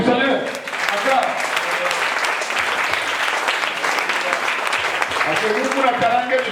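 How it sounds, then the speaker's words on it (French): A church congregation applauds together in loud, sustained clapping that fills the whole stretch, with voices mixed into the crowd noise. "On va acclamer la parole du Seigneur. Acclame."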